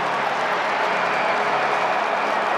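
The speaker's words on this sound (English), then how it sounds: "That woke the crowd up." Dense, continuous roar of a large crowd cheering and clapping in a domed arena after a goal at a Syracuse vs Johns Hopkins college lacrosse game, loud and sustained throughout.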